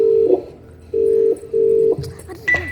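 Phone ringback tone on an unanswered call, repeating long steady beeps with short gaps, followed by brief electronic blips near the end.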